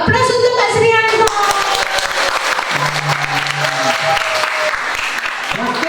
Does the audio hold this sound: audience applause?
yes